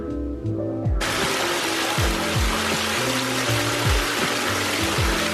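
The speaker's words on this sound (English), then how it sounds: "I absolutely love the sound of rain" Heavy rain pours outside in a dense, steady hiss that begins abruptly and stays loud and close, with a low rhythmic thumping underneath.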